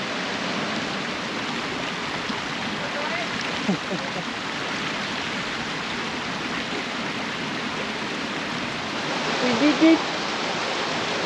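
Continuous rushing water of a river flowing nearby in a small valley in Peneda-Gerês, Portugal, a steady broadband wash with a brief faint sound near the end.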